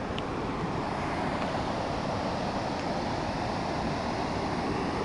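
A mountain waterfall near Kol-Tor lake in the Kegety gorge, at about 2733 m, gives a continuous loud, dense roar of falling water, steady throughout with no voices.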